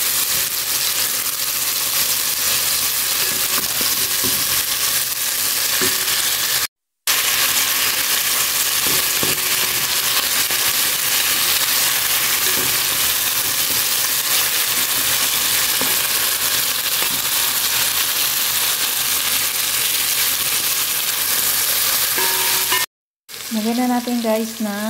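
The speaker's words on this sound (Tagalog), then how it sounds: "igisa lang natin mabuti yung ating chicken" Chicken sautés in a pan for chicken kabsa, a loud, continuous close sizzle and frying crackle running throughout, with two brief breaks and occasional stirring scrapes.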